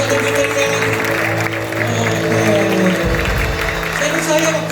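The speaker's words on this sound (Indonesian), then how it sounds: "Berikan tepuk tangan yang paling meriah kepada Tuhan" A church congregation claps and cheers through a service, with steady sustained applause throughout and a voice speaking over it.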